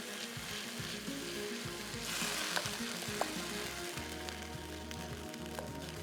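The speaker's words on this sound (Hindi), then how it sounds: "हरी मिर्चों का पेस्ट और लहसुन अदरक का पेस्ट डाल के अच्छे से कर लेंगे फ्राई" Green chili paste with ginger-garlic paste and onion paste fries in a karahi, giving a steady, dense sizzle broken by occasional stirring scrapes and clinks, close up and without talk.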